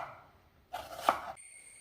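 A knife chops onion into thick pieces for an onion pickle, a short close burst of cuts on a board followed by a faint steady tone.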